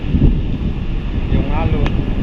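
Strong seaside wind buffets the microphone in a steady, loud low rumble, with rough choppy waves nearby and a brief faint voice fragment surfacing under the noise.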